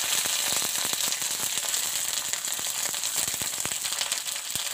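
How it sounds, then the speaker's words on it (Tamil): Curry leaves sautéing in hot oil in a kadai, a dense crackling sizzle full of sharp pops and spatters, close and steady without speech. "கருவேப்பிலை போட்டு நல்லா வதக்கிடுங்க"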